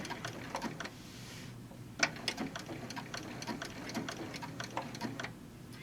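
A longarm quilting machine runs a Prostitcher Lite program, stitching around a heart shape on a quilted bag, with a quiet, rapid, even ticking of needle strokes throughout and no talk.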